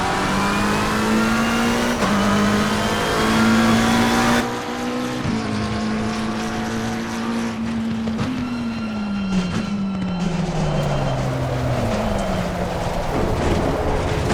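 A race car engine in the racing simulator game Assetto Corsa Competizione drones steadily, its pitch dipping and climbing as it shifts through gears, loud and continuous with no voices.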